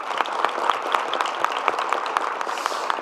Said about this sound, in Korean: 우리 지사님 박수 한번 부탁드립니다.